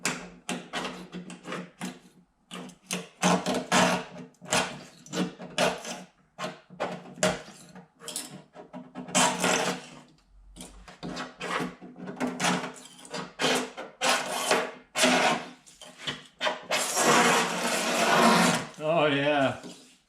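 A fresh razor blade scrapes and peels material away in long strips, giving a steady run of close, rasping strokes that repeat every fraction of a second for about twenty seconds.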